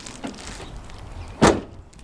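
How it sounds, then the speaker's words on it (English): A car door shuts with a single solid thump near the middle, close and fairly loud, against faint outdoor background noise. "And with the door shut,"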